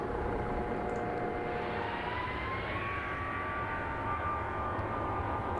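Simulated airliner jet engines in the Infinite Flight game hum as a loud, steady roar, with a faint whine that slowly rises in pitch.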